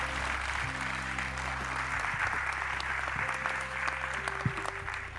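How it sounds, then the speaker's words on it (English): A seated conference audience applauds after a panel discussion, a dense, steady wash of clapping that fills the hall for the whole stretch, with faint tones and a few louder claps poking through. "A big round of applause to them."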